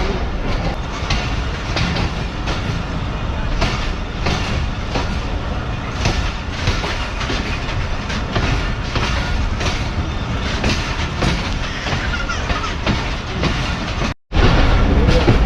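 Karachi Express rolling onward from Nawabshah railway station, a steady, loud rumble and clickety-clack of wheels and carriages that runs continuously, cutting out for a brief moment near the end.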